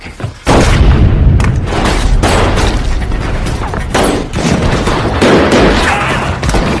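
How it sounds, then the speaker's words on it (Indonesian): A film shootout, with loud, close bursts of gunfire and heavy booming shots that come in rapid clusters over a constant roar of action, with no speech. "ia pun langsung membunuh Harry sehingga terjadilah baku tembak."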